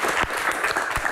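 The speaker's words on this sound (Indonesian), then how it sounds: "Tepuk tangan." An audience at a Q&A event gives a brief burst of dense, energetic clapping that is loud and close, with no voices over it.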